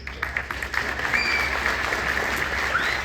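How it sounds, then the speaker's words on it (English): Graduation audience at PPEPTech High School in Casa Grande applauds the teachers: continuous close clapping from a crowd, steady and fairly loud, with a faint whistle rising through it. "A round of applause for teachers, please."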